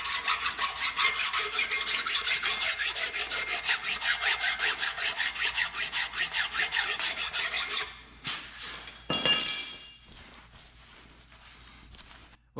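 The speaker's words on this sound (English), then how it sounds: "try to sand this down as much as we can. You know, try and take all this rust and stuff off of it" Sandpaper rubbed by hand over a rusty Dana 60 axle shaft during a Super Duty axle swap, making a loud, close, rhythmic back-and-forth rasp for about eight seconds, then stopping, followed by one short harsh burst.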